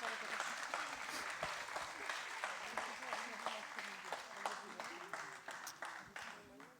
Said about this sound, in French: D'abord, vous pouvez vraiment les applaudir, ils ont été extraordinaires.